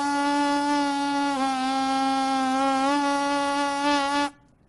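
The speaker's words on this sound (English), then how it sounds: "see if you can get the buzzing to change the pitch." Brass-style lip buzzing, a steady nasal buzz held for about four seconds that dips by a half step and returns to its starting pitch, then stops abruptly, close and loud with no talk.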